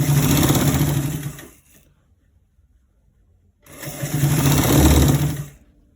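A sewing machine stitches the opening of a collar roll closed in two close, steady bursts of about a second and a half each, separated by two seconds of near silence.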